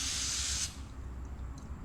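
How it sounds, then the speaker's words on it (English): A K&N aerosol oil spray can sprays onto an air filter in one sustained, close, bright hiss that cuts off abruptly, leaving quiet background afterward. "hold the spray can just a bit over the top and give it a nice generous coat"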